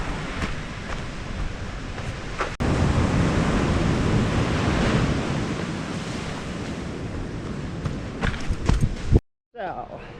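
Ocean waves wash onto a beach south of Puerto Vallarta, a broad continuous roar of surf with gusts of wind buffeting the microphone, loud and close, cutting off briefly near the end.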